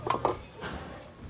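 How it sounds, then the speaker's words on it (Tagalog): A metal lid is set onto a pot of pork bone pochero, giving a couple of quick close clanks followed by softer scraping and settling. "At takpan muna natin."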